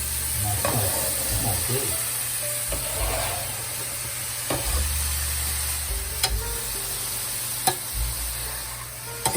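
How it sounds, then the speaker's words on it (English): Onions, garlic and spinach sizzle in olive oil in a pan while being stirred, with steady frying crackle, scraping stir strokes and brief quiet remarks from people nearby. "Just mixing in your onions, garlic, olive oil, and spinach?"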